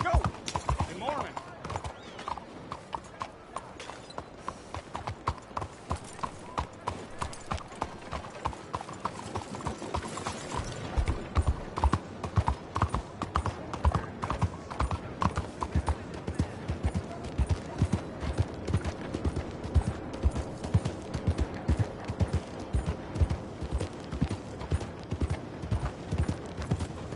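A horse's hooves clip-clop steadily on the ground in the video game Red Dead Redemption 2, in a continuous rhythmic gait close by, with a character's voice occasionally speaking over the hoofbeats.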